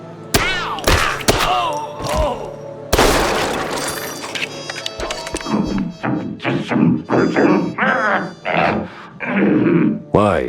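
Firecrackers bursting in a wooden attic in the game Mouse P.I. For Hire: a quick series of loud sharp pops and thuds followed by dramatic musical stabs and vocal sounds.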